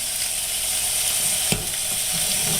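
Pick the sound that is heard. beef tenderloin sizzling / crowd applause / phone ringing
beef tenderloin sizzling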